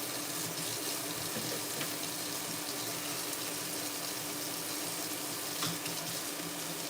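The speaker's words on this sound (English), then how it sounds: "Wash my steak cutting knife over here" Tap water runs steadily into a kitchen sink while a steak knife is rinsed under it, a continuous close hiss of flowing water with no talking.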